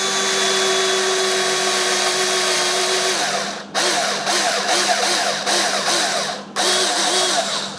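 A power drill boring a hole for a flange, its motor whining steadily close by, then several short bursts with brief stops between them, loud and with no one speaking.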